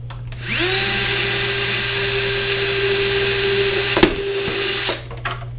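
An electric drill spins up to a steady high whine while drilling a hole for a homemade crawfish trap, holds for several seconds, then winds down, with a couple of clicks near the end.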